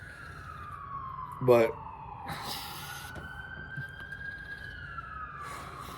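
An ambulance siren passes by outside, a loud wailing tone that sweeps slowly up and down across the whole stretch, with someone briefly speaking over it.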